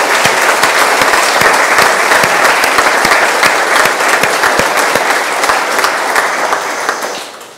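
A congregation gives a loud round of applause in honour of Jesus, many hands clapping thickly and steadily for about six seconds before tapering off.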